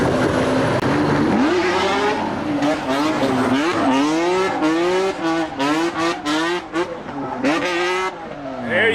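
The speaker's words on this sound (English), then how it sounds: "He doing burnouts" A truck doing burnouts and donuts: the engine revs in repeated wavering surges with hissing tire squeal and skidding, loud and continuous for several seconds while people talk over it.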